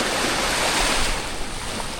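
Sea waves wash continuously onto Patar Beach, a public beach in Bolinao, Pangasinan, with a broad, steady roar, mixed with wind rushing across the microphone; no voices.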